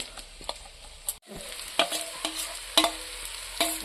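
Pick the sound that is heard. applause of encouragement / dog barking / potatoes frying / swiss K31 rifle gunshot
potatoes frying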